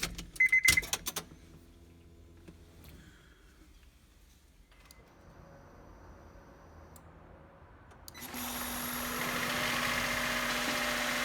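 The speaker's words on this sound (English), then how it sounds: "yes, the engine started, but the starter didn't actually do anything" A first-generation Honda Insight hybrid is cranked by its electric motor and the engine catches, settling into a loud steady running hum after a few quiet seconds of clicks and faint whirring.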